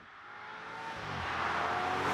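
BMW Alpina B5 Biturbo driven at full throttle, engine note rising steadily in pitch and volume as the car accelerates, heard from inside or nearby with no voices.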